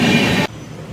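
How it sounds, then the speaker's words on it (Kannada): Loud rumbling train noise at a railway station fills the first half second, then cuts off abruptly into quieter, hissing station ambience. "ಇವಾಗ ನಾವಿದ್ದೀವಿ ರೈಲ್ವೆ ಸ್ಟೇಷನಲ್ಲಿ"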